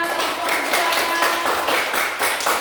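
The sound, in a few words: classroom applause for a student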